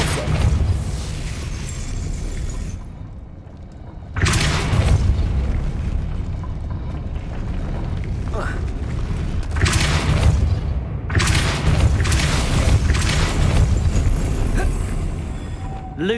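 A Depulso spell cast in the Hogwarts Legacy video game brings repeated heavy booming blasts and whooshing bursts, some sharp and others rolling, spread over about sixteen seconds at loud, close range with no speech.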